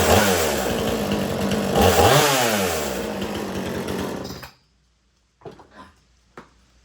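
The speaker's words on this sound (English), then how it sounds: "I'm only doing this to show you how I start my saws." A Homelite chainsaw, a Little Red or Big Red model, revs loudly with rising and falling pitch, then cuts off abruptly, followed by a few faint clanks and handling noises in near silence.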